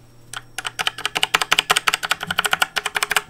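Typing on a compact USB keyboard with Cherry-compatible key switches and Amiga-style keycaps: a rapid, close run of crisp, fairly soft keystrokes in an uneven rhythm, about two dozen presses, with no talking.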